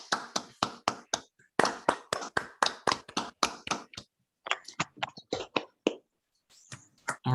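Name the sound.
audience applause after invited talk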